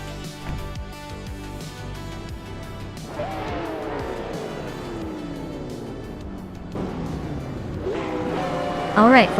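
Ferrari and Porsche race cars roar around Sochi Autodrome in a racing video game, engines sweeping up and down through gear changes with tire squeal and skidding, a loud burst closing the stretch.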